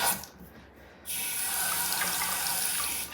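Water running from a sink faucet in a house with a tiled setup, a steady broadband gush that starts abruptly partway in and continues loud and close, splashing up from the basin.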